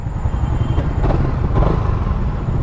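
A pearl white Suzuki Raider 150 fi motorcycle rumbles steadily while riding, a continuous low engine drone mixed with wind and road noise, loud and close throughout.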